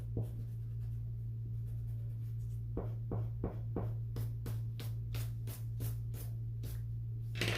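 A pencil eraser rubs back and forth on paper while an origami pattern is drafted, with quick, evenly spaced scrubbing strokes close by over a steady low hum that grow faster toward the end.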